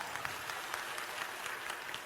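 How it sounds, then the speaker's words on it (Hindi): An audience claps together at a spiritual discourse, steady crackling applause with individual hand claps standing out, moderately distant and continuous for the whole stretch. "पहले नंबर तो इन्हें ताली बजा के धन्यवाद दो"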